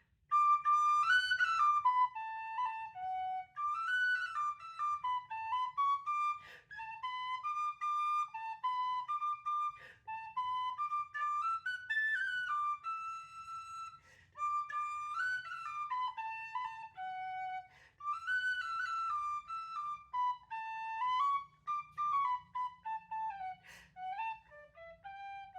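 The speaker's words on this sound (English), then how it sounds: "it's such an easy song to play on the tin whistle" A tin whistle plays a simple folk melody alone, clear bright phrases with short pauses between them, fairly quiet and close.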